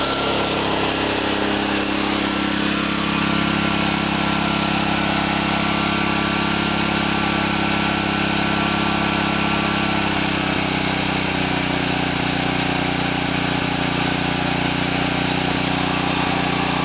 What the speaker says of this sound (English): I'm going to try to idle it down.